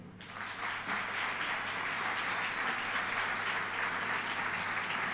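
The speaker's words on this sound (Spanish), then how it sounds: "vamos a dar un aplauso e vamos a comenzar" Audience applause at a regional sports federation's season trophy awards gala, a steady dense wash of clapping that swells in after a brief start and holds evenly loud throughout, with no voices over it.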